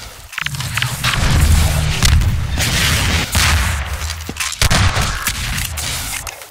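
RPG rockets explode in rapid succession during a Half-Life 2 Deathmatch match, loud booming blasts mixed with gunfire filling several seconds, close and dense.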